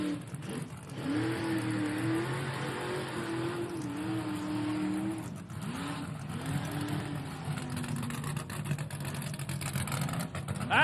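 An off-road bouncer's engine revs hard as it climbs a hill, its pitch rising and falling in repeated surges, loud and close, with a steady roar between bursts.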